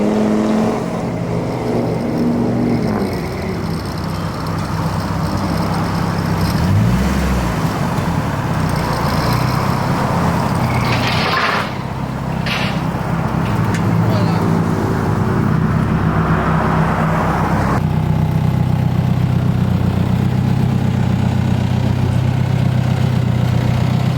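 A supercharged Nissan S13 engine runs steadily for the whole stretch, a loud, close, continuous mechanical drone with slight shifts in tone, heard in a shop setting with no talking.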